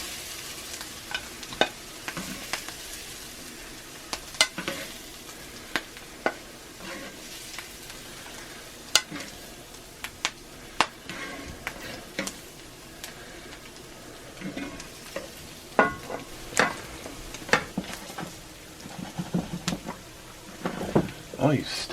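Sweet potato hash in a cast iron pan, sizzling softly and steadily while a utensil scrapes and clanks as it is dished out, with brief sharp knocks scattered throughout.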